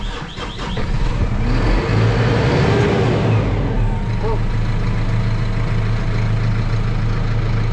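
A tractor engine runs steadily and loud while backing around toward a pasture clipper on a farm in wet weather, with a low rumbling drone that shifts slightly in pitch partway through.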